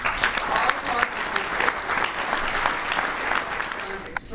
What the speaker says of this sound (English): I think you owe yourselves a big, big round of applause for what you have done